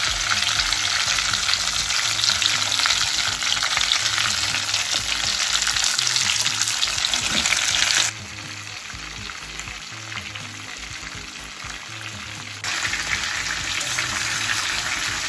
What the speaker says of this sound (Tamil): கத்திரிக்காவை 1 by 1 பிளேஸ் பண்ணலாம்.